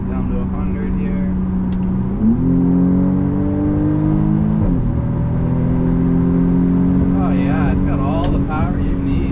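A 2020 BMW M235i Gran Coupe accelerates hard on a highway, its engine note climbing steadily through two gear shifts, loud and continuous with cabin road noise.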